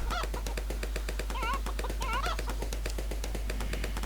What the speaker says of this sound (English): These chickens are really irritating.